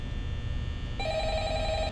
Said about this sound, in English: Okay, am I gonna answer the phone?